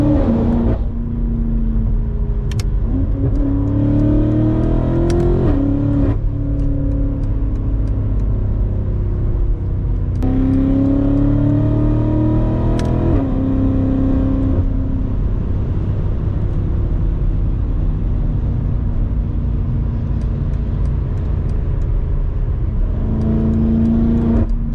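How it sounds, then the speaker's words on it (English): A straight-piped BMW F90 M5 drives along with a loud, continuous engine and exhaust drone, rising in pitch through several revving pulls and shifts, heard from inside the car with no talking. "the car just sounds too good with the seats down, man."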